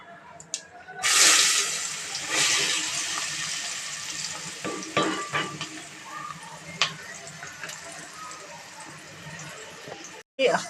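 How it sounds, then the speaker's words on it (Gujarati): Onions frying in a pan with turmeric, stirred with a spoon: a steady loud sizzle with scraping stir strokes and clatter, while a person talks intermittently. "હવે આપણે કાંદા નાખી દઈશું."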